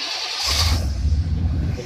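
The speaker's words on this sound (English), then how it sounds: "And you crank the car up." A Cadillac Brougham engine cranks and catches, a short starter whir giving way to a loud, rumbling idle close by, alone without speech.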